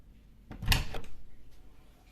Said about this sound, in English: Today, I'm going to teach you how to open a door.